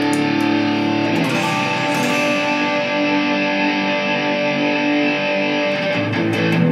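Sustained electric guitar tone through a Line 6 Helix, distorted and smeared by echoing delay and a long reverb tail, steady and loud throughout.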